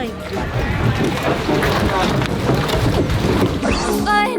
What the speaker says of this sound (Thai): ขึ้นเรือหางยาวไปทางนี้